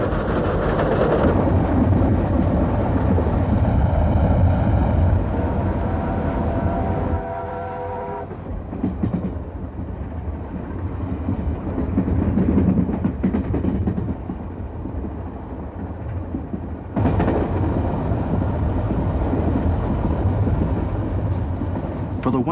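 Steam locomotive 3801 hauls the Western Endeavour train across Western Australia. A loud, steady rumble of wheels and the working engine fills the clip, with whistle tones near the start, under music or narration.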